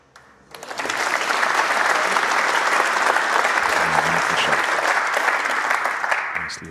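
A snooker crowd bursts into sustained applause at a British Open match, a steady wash of clapping that rises quickly and holds for several seconds before fading, with a commentator's voice faintly beneath.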